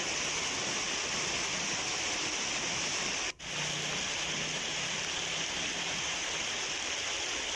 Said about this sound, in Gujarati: સુરતમાં વહેલી સવારથી જ ધોધમાર વરસાદ વરસી રહ્યો છે